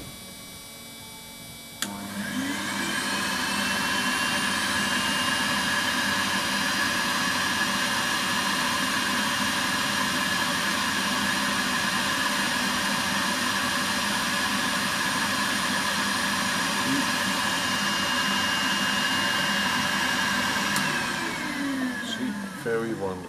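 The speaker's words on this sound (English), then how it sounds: "First, of course, I have to put on the vacuum." A nail drill's dust vacuum on the Podomonium Jimbo switches on and runs as a loud, steady whine with a constant drone, then stops at the end.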